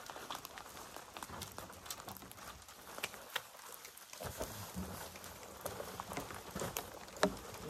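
Light rain patters outdoors on a rainy day at a tea garden, a faint, uneven scatter of soft drops and taps with no speech.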